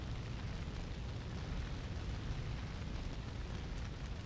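A raging fire during a battle in the video game Breath of Fire 4, a dense, continuous roar of crackling flame and rumble at moderate level, steady throughout with no voices.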